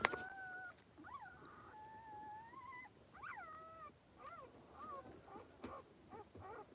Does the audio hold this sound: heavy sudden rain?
no